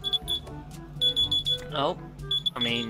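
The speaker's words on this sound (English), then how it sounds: "It's my fucking timer for my pizza." A kitchen timer goes off for a pizza with a rapid series of high, thin beeps repeating in short bursts, heard under ongoing chatter from people talking while playing an online game.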